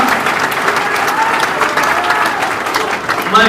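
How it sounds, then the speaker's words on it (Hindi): A crowd at a political rally in Bhiwani claps loudly and steadily to welcome a guest, a dense, continuous wash of applause that holds at full strength throughout. "जोर से ताली बजा के स्वागत करो"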